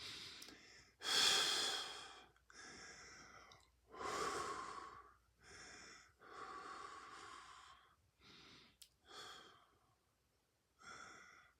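Long, deep yoga breaths during a kundalini class, drawn slowly in and out through the nose in about eight separate airy swells, each a few seconds apart and close to the listener.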